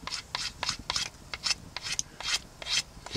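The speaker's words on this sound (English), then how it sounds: "Just scrape it off with my knife real quick." A knife blade scraping leftover resin off a wooden arrow shaft, with about a dozen quick, close, rasping strokes in an uneven rhythm and no talking.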